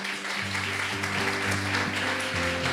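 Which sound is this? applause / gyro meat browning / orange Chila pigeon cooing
applause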